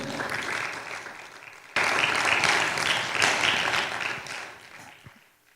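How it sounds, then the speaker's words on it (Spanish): Congregation applause in a Spanish-speaking church service, a dense wash of clapping that swells sharply partway through, then tapers off at the end. "Le damos un aplauso al Señor."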